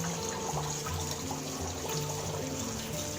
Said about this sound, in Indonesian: ini kita lihat tuh, airnya deras banget